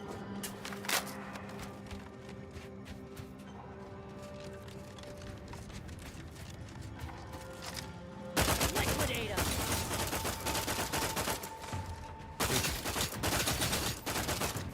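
Rapid assault rifle fire in the video game Outer Worlds 2, dense crackling shots through the first half, then a sudden louder, harsher stretch of sustained firing with a short break near the end, no clear speech.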